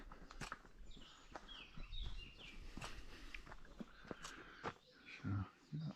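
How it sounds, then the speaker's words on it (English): Scattered birdsong and chirps carry faintly through open air on a mountain hike near Orient, Mallorca, mixed with crunching footsteps on the trail. "Starting to hear lots of birds as well now"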